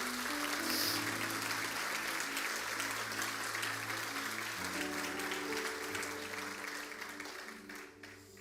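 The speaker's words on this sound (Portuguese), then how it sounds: "Você pode dar um aplauso ao Senhor nessa manhã?" A church congregation applauds during a morning service, steady sustained clapping that holds for several seconds before slowly thinning, with faint organ tones underneath.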